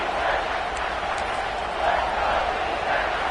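A loud stadium crowd roars steadily at a football game in a venue called Death Valley, a dense, continuous wall of cheering noise swelling slightly midway, with no gaps.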